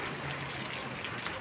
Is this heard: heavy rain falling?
yes